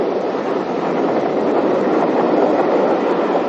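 A Great Western Grange class steam locomotive hauls an eastbound freight train steadily along the track, a continuous broad rumble with faint rhythmic clatter, heard from fairly close with no voices.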